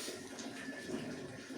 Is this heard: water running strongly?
yes